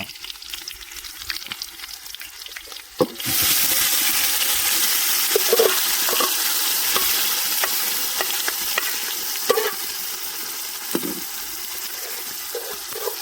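Ginger paste dropped into a hot pan for a mutton curry: a sudden loud sizzle bursts in and keeps hissing steadily, broken by repeated spatula scrapes and taps, close up with no talking.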